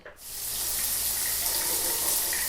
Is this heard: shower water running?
yes